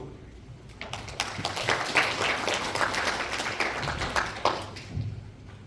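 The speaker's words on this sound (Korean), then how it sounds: "큰 박수." Audience at a Busan urban architecture forum applauding a speaker's introduction indoors, a steady burst of many hands clapping that swells and then fades over several seconds.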